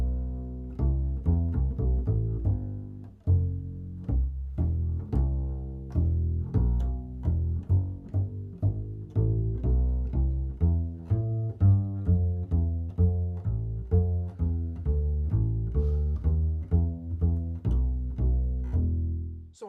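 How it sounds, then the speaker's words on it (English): A George Borun La Jolla 7/8 size double bass plucked pizzicato, a steady run of deep, round notes with quick decays following one another at an even pace, close and clear with no talking. "So I played a few notes with a pizzicato approach so you can get a feel for the sound of the bass"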